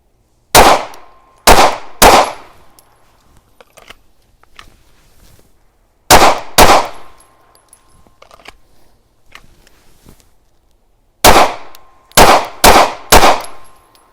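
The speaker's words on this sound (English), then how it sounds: "We're going to swap out mags and we're going to shoot a little faster and see how we do with that." Compact 3.6-inch M&P pistol fired at a range in three quick strings of sharp, loud shots, two to three reports each, separated by quiet pauses.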